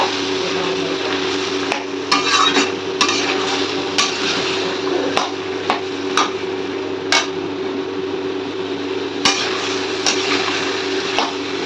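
White potatoes sizzle in hot oil tempered with black cumin and green chilli, a steady hiss broken by sharp clacks and scrapes of a spatula stirring against the pan at irregular intervals.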